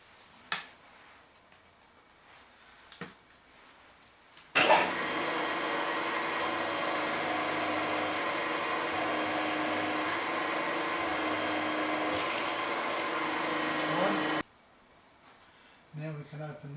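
A milling machine drills through a metal block, a loud steady whirring and grinding that starts abruptly and runs for about ten seconds before cutting off, with quieter workshop clicks before and after.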